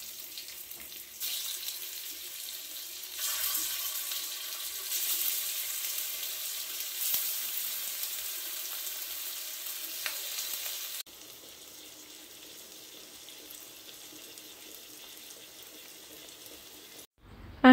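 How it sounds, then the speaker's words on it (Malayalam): Masala-coated fish pieces frying on an iron tawa give off a steady, soft sizzling hiss that continues alone before dropping to a quieter simmer partway through. "ഇനി ഇതിലേക്ക് നമ്മൾ നേരത്തെ മസാല തേച്ച് വെച്ച് മീൻ കഷ്ണങ്ങൾ ഓരോന്നായിട്ട് വെച്ച് കൊടുക്കുക."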